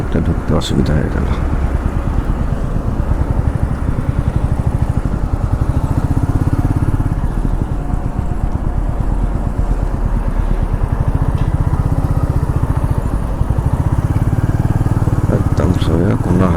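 Motorcycle cruising on a highway at night near the Second Hooghly Bridge toll, its engine droning loud and steady throughout with wind rumble, a few short clicks at the start and end.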